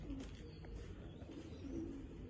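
Low, soft pigeon cooing repeats a few times over a steady background hum, fairly close but quiet.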